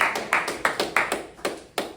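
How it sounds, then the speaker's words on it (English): Sharp hand claps ring out at a quick, fairly even pace in a meeting or demonstration setting, about seven distinct close claps with brief gaps, sounding more like a few people than a full crowd. "Can we give Gavin a round of applause?"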